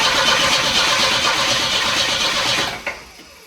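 An old Volvo engine cranks on its starter without catching, a loud, steady churning whir that runs for about three seconds, then cuts off with a click and leaves quiet.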